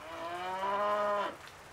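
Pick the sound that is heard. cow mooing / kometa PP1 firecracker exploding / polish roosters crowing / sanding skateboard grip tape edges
cow mooing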